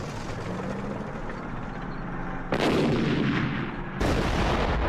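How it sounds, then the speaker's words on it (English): Artillery fire in a Six Day War battle: two heavy booming blasts land over a dense, continuous rumble of battle noise, loud and close, with no voices. "He orders his artillery to make the earth shake."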